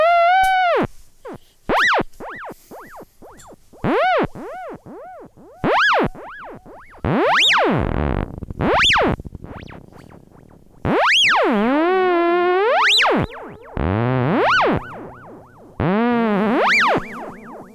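A Stylophone Theremin's synthetic, buzzy electronic tone swoops up and down in pitch glides, each bend followed by fading echoed repeats from its built-in delay. It plays loud and alone.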